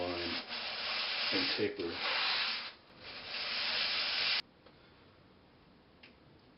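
Coarse 60 grit sandpaper rasps along a lap steel guitar fingerboard in close, brisk back-and-forth strokes for several seconds, then stops, leaving a brief spoken phrase and quiet room tone.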